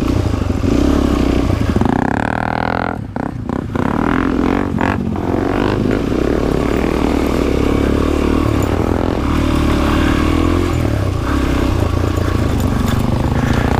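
A hard-working dirt bike engine drones loud and close throughout a ride on an Allegheny National Forest trail, with revving, a few sharp changes in pitch around gear shifts, and clattering bumps over rough ground.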